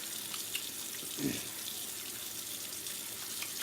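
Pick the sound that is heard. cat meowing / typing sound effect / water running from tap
water running from tap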